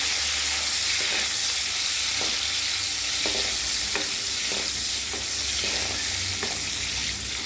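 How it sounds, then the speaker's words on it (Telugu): Onions and green chillies sizzle steadily in a hot pan, with intermittent scraping knocks of a spoon stirring them, close and continuous throughout. "ఉల్లిగడ్డలు వేసాక కలపాలి."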